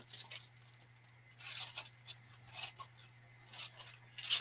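Scissors snip through card stock for a 5x7 handmade card, a series of soft, close crisp cuts in short uneven bursts over a quiet steady hum.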